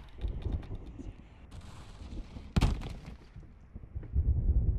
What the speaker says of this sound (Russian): Какие-то книжки упали.